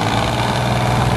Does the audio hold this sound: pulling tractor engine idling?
yes